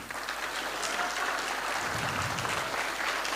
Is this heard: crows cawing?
no